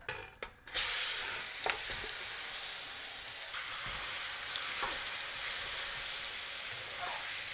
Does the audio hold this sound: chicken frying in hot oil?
yes